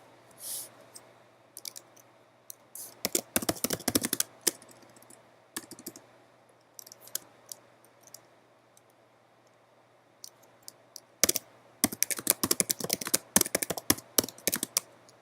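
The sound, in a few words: typing a video title on a computer keyboard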